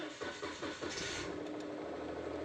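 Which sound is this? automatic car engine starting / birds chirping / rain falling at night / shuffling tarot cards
automatic car engine starting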